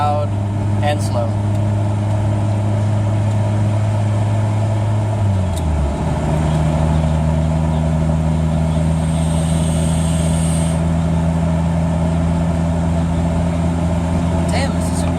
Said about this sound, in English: my car does have a weird idle problem with the idle air control valve